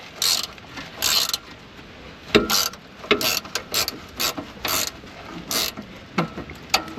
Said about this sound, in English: Ratchet wrench really helps speed things up.